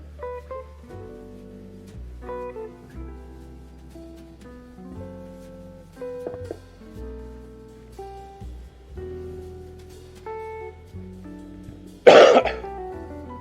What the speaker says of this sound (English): Excuse my cough, I apologize for that.